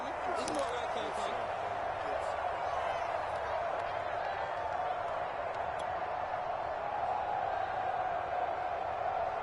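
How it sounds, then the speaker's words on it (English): Stadium crowd in a football video game building into a sustained roar ahead of a big third down, a dense, continuous wash of cheering at steady volume throughout. "the crowd getting into it as we come up on a big 3rd down"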